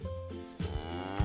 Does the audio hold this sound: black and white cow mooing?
yes